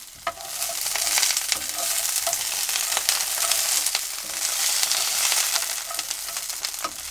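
Green beans spread across a large hot skillet sizzle loudly and steadily, with occasional sharp pops and stirring clicks nearby, with no talking.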